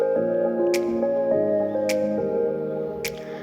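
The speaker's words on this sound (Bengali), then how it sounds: "সেই কারণে আমি ভালো করে ডুবিয়ে দিচ্ছি।" A bowl is pushed down into a flowing village river to trap small fish, producing soft watery squishes and drips with a few sharp clicks, close and fairly loud.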